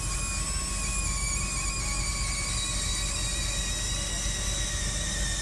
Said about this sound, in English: one customer caught a short video of the sign screaming and screeching as it shows off the menu